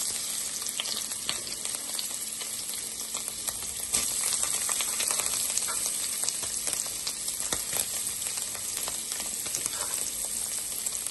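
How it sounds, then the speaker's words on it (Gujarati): Paneer frying in a little warmed oil in a kadai for butter garlic paneer fried rice, a continuous crackling sizzle with scattered sharp pops and occasional stirring, moderately loud and steady throughout, no talking. "ફર્સ્ટ હું એડ કરીશ 2 ટેબલસ્પૂન ઓઇલ પનીર ફ્રાય કરવા માટે."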